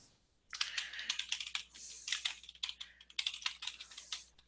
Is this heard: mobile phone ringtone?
no